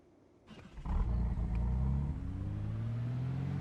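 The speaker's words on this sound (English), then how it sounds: "I love that engine noise" A Dodge car engine in the video game Project Zomboid starts up and settles into a loud, steady low rumbling idle heard alone, close and continuous.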